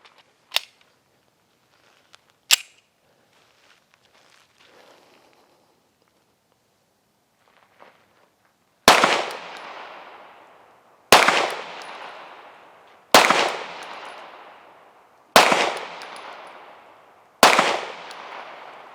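A Canik TP9SA pistol fires five sharp, loud shots at a steady pace, each ringing out with a decaying tail. A few faint clicks and knocks come before the shots.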